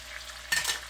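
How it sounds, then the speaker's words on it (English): Minced garlic fries in butter with a soft sizzle, and about halfway through a spoon scrapes the pan in one quick stir. The whole sound is brief and faint, with no talking. "I'm going to mix this, stirring it constantly. I'm going to cook this till the oil is fragrant."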